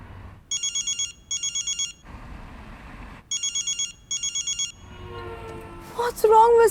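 An unanswered phone call rings in paired bursts of a bright electronic tone, twice over with quiet gaps, before voices begin speaking.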